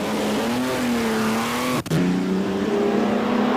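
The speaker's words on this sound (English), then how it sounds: "Finally, a look at R4D, perhaps the fastest ERA ever built, seen here at the Goodwood Festival of Speed in the hands of John Harper." ERA R4D historic race car at the Goodwood Festival of Speed, its engine note rising and holding loud and close, with a brief cut at a gear change before the revs pick up again.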